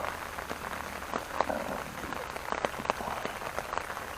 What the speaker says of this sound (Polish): Już mi się nie chce wychodzić na ten deszcz.